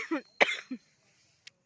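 A person coughs at a Saraswati Puja gathering late at night: a quick burst of three close, harsh coughs, followed by near silence and a couple of faint short sounds.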